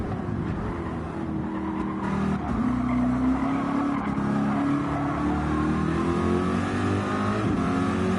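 A BMW M6 Gr3 race car in a racing video game at Laguna Seca holds a loud, continuous engine note with rising revs and tyre squeal, heard alone without talk.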